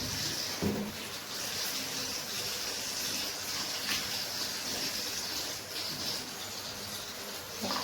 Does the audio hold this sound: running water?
yes